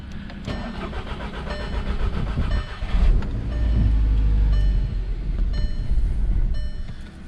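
A car engine being cranked with a Topdon JS1200 jump starter on the third attempt, loud and close, with a steady rumble that catches around three seconds in and keeps running evenly to the end.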